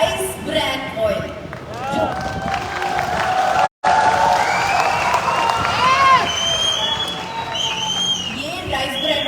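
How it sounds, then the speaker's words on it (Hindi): An indoor audience at a product talk claps and cheers loudly for several seconds, with a voice speaking over the steady applause. "ये तालियां भगवान को समर्पित है"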